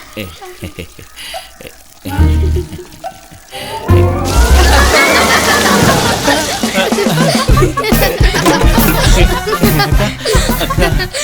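Water splashing and sloshing in a Tamil film scene, loud bursts of splashing with laughter and lively voices over it, growing busier partway through.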